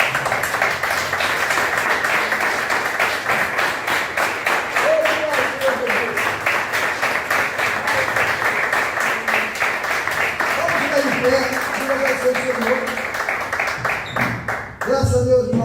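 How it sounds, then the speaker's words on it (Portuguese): A church congregation claps in a steady, rapid rhythm for about fifteen seconds, loud and sustained, with voices singing or calling out over the clapping before it breaks off near the end. "Vamos dar uma salva de palmas ao Senhor?"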